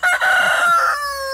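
A nearly three-year-old rooster, head of a homestead laying flock, crows one long, loud, close call that holds steady before trailing off.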